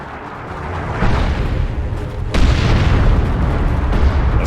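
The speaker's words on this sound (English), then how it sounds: "Launch barrage! Artillery! Clear the area!" Artillery barrage explosions in Warhammer 40,000: Dawn of War II, a steady rumbling roar of blasts with a sharp surge near the middle, loud and continuous with no talk.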